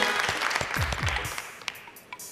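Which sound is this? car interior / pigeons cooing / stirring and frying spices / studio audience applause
studio audience applause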